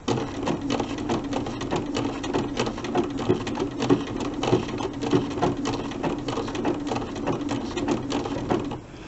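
Sewing machine stitching an appliqué snowman quilt block, a fast steady rhythmic chatter of needle strokes, close and continuous for the whole stretch, with no talk.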